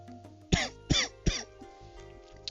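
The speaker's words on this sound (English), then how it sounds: "Sorry, coughing." Three sharp, loud coughs in a row, close to the microphone, each about a third of a second apart, with quiet room tone and no talk around them.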